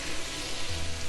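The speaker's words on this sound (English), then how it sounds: "Give it a good mix." Chicken being stirred in a pan with water added, giving a steady close sizzle and bubbling with faint scraping, with no voices.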